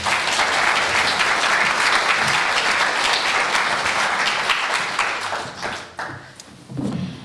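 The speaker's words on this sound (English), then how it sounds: "Round of applause, please" A crowd claps in a sustained round of applause at a Labour Party political event, dense and steady for several seconds before thinning into scattered claps and a few thumps near the end.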